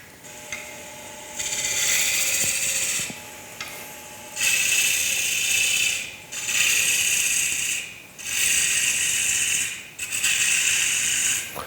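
Wood lathe turning a quartersawn white oak platter, a gouge leveling the front face in repeated cutting passes, each a loud rasping hiss lasting one to two seconds, separated by brief quieter pauses with the lathe humming.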